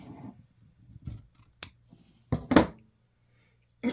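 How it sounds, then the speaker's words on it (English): Scissors snipping through ribbon for an Easter bunny bow stack, several sharp crisp cuts spaced irregularly, close and clear against near silence, with faint handling noises between them. "I think I'm going to cut about 3/4 of an inch off"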